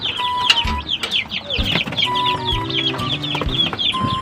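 Kanukis hens and their chicks in a backyard, with close, busy clucking and high chick peeps overlapping in quick, irregular bursts.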